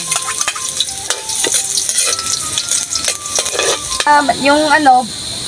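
Garlic sautéing in a hot pan for pork ribs with pineapple, a steady close sizzle and frying hiss with a utensil clinking and scraping against the metal as it stirs.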